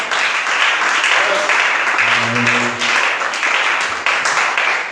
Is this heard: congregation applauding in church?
yes